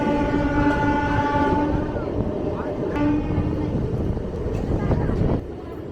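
From inside a passenger train on the Rupsa to Baripada line, a steady loud rumble of running carriages carries sustained tonal hums. The din drops slightly near the end.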